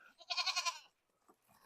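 Goats bleat on a farm, one loud wavering call up close followed by fainter bleats and rustling in the background.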